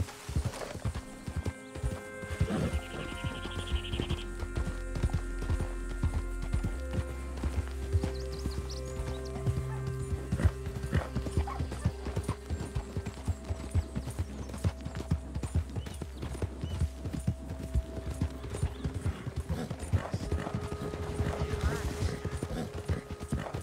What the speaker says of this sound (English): Não quero perder esse cavalo aqui